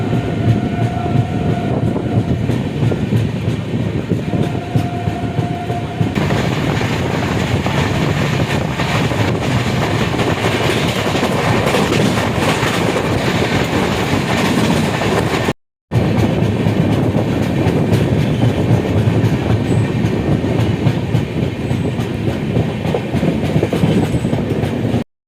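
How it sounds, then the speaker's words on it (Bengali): Dhauli Express passenger train running on rails near Belda station in West Bengal, a loud continuous rumble and rattle of wheels heard from inside, with a short gap partway through. "আমাদের ট্রেন এই মুহূর্তে পৌঁছে গিয়েছে পশ্চিমবঙ্গের দ্বিতীয় স্টেশন বেলদা স্টেশন।"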